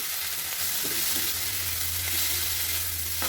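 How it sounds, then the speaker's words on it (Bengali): Shrimp heads sizzling and crackling in a hot pan, a steady frying hiss with faint stirring scrapes throughout. "ভালো করে ভাজবো"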